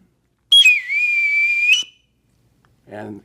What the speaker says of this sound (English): When you come aboard a ship, they do whistle the captain or the admiral on board